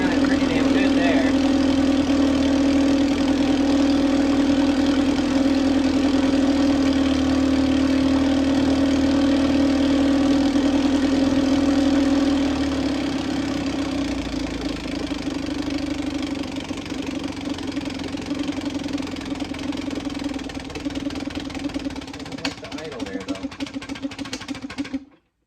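A roughly 70-year-old outboard motor runs steadily at idle, a loud, even mechanical drone with a strong low hum that holds for about twelve seconds, then softens and wavers slightly before cutting off near the end.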